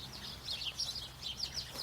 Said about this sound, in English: the birds want to be in the video